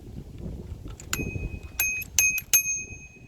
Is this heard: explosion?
no